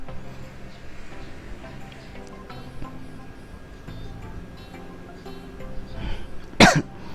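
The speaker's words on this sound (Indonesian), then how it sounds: "Mohon maaf ya teman-teman, saya sedikit sedang batuk." A single sharp, loud cough bursts out near the end, after a stretch of quiet background hum and faint ticking, beside the Lubuklinggau–Curup highway in Indonesia.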